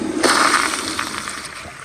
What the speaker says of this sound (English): here is a flush